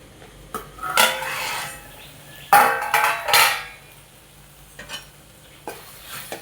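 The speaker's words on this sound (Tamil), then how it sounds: "நான் கொஞ்சம் உப்பு போட்டுட்டு 2 வதக்கி விட்டு சிம்மில் போட்டு தட்டை போட்டு மூடி வைக்க போகிறேன்" Okra and tomato sautéing with salt in a pan, with a spoon scraping and clanking against the metal in several uneven bursts over a soft sizzle, close by and with no talk.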